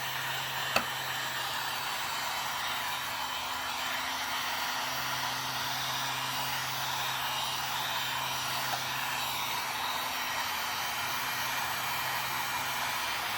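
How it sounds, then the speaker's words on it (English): A heat gun set to high heat blows steadily while warming a sticker during a Christmas village ladder shelf build, a continuous close airy whoosh with a low hum and one brief click near the start. "I'm going to start with a high heat to get this going and get this sticker all heated up."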